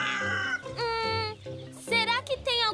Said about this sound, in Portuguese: Mas ele não para de cantar. É, tipo, cocoricocó.